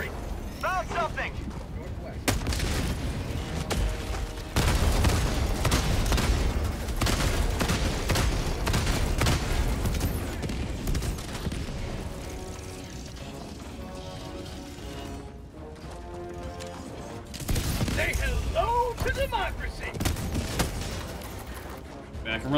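Autocannon and rifle fire in Helldivers 2, heavy repeated cannon thumps and rapid gunfire in loud bursts over about twenty seconds, with brief lulls and game voice lines mixed in.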